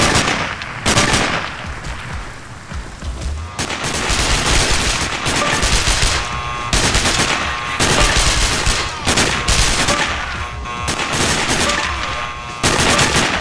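Rapid gunfire from the video game Sniper: Ghost Warrior (2010), with dense bursts of loud shots and automatic fire, sharp cracks recurring throughout with no talking.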